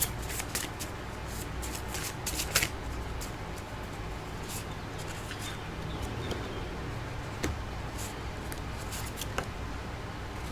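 Chakra oracle cards being shuffled by hand, a steady papery riffling and flicking that runs throughout with a few sharper slaps, close and moderately loud, with no talking.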